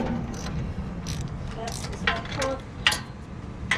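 A socket wrench turns a 13/16 spark plug out of a lawn mower engine, making a few sharp ratcheting clicks and metallic ticks at close range over low background noise.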